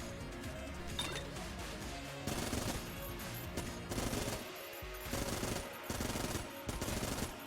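Rapid automatic fire from the Vulcan Cannon in the modded video game Enter the Gungeon, a dense continuous stream of shots with louder bursts and crashing impacts pulsing every second or so.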